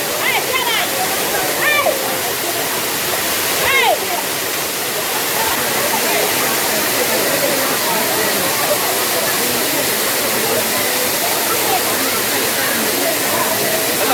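Thirumoorthy waterfall roars steadily as people bathe beneath the falling water, a dense close rush of splashing water, with a few brief whistled or squealing tones early on and voices faintly present.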